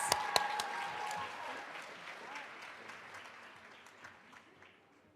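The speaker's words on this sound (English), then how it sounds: "Let's have a final round of applause for all 8 of our Black Excellence Award winners" Applause at an awards dinner for Black Excellence Award winners: a room full of clapping that starts strong with a few sharp claps and gradually thins and fades over several seconds, heard from some distance.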